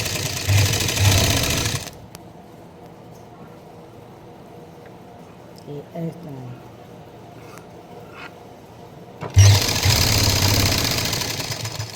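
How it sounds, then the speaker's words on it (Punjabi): A sewing machine stitches a pocket onto a salwar in two loud bursts of rapid mechanical whirring and knocking at the start and end. The middle is quiet apart from faint handling sounds. "ਹੁਣ ਆਪਾਂ ਨੇ ਸਲਾਈ ਲਾਉਣੀ ਹੈ"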